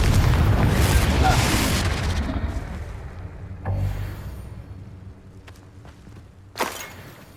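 A fiery blast spell goes off in the Hogwarts Legacy video game: a heavy booming explosion up front, then two smaller sharp impacts trailing off, all over game ambience.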